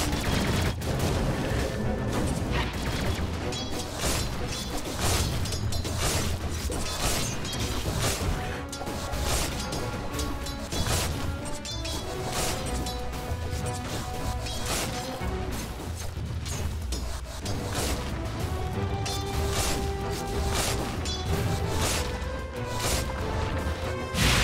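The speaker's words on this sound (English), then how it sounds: "Radiant's bottom tower is under attack." A Dota 2 battle at a tower under attack: a dense, continuous clatter of crashes, hits and mechanical impacts with rapid fire-like bursts, loud and unbroken for over twenty seconds.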